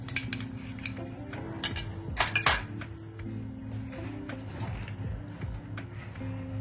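Sabudana thalipeeth dough being mixed with a spoonful of yogurt in a bowl, giving steady scraping and clinking of a spoon against the dish, with a few sharper clatters near the start, and no talking.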